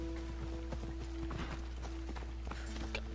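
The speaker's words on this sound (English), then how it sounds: "Stop running away from me, damn it." Galloping horse in Assassin's Creed Odyssey, quick irregular hoof thuds running close over a low steady game drone and music tones, with no talking.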